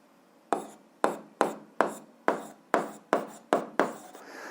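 Pen or pencil writing an algebra answer on paper: nine short, evenly spaced strokes, each a sharp scratch fading quickly, close and fairly loud with no talking.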